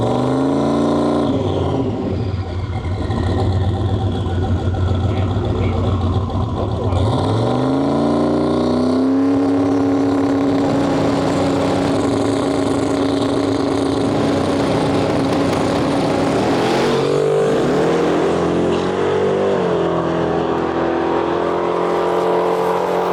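At a drag race, a Ford Mustang Fox body and a Plymouth Valiant with a Gen 3 Hemi launch with loud, sustained engine roar, revving rising in pitch through several gear changes and continuing strong at a distance.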